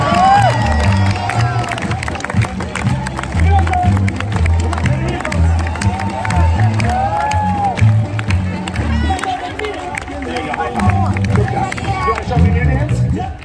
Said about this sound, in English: the louder you clap